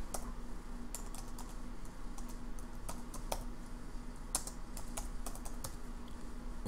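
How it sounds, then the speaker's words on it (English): Computer keyboard typing while entering a city search on a real estate website: quiet, irregular bursts of light key clicks over a steady low room hum, with no voices. "here we're just typing in St."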